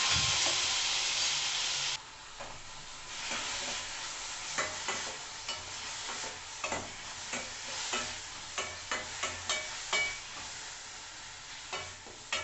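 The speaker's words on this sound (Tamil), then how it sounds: "நம்ம ஒரு 4 தக்காளியை கட் பண்ணி வச்சுருக்குறோம், அதை லேசாக வதக்கலாம்" Four chopped tomatoes sautéing in a pan with pinched chilies and a sprig of curry leaves for rasam, a soft sizzle under repeated rhythmic spoon scrapes, close but fairly quiet.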